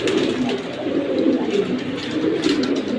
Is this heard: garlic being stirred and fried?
no